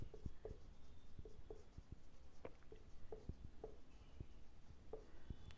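Pen scratching across paper while writing out a commerce journal entry, a quiet, close series of short strokes and taps repeating in an uneven rhythm, no voice.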